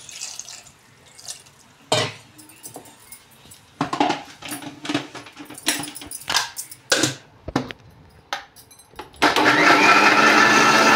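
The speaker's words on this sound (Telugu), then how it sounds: "ఇప్పుడు వాటర్ వేసుకొని మిక్సీ పట్టుకున్నాం." A mixer grinder blends soaked tamarind chutney with water, starting loud and steady near the end after a stretch of clinking, tapping and handling sounds.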